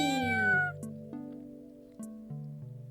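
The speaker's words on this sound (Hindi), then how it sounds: "बे से बिल्ली।" A single cat meow sounds clearly at the start over a simple, light musical backing of steady tones that continues after it.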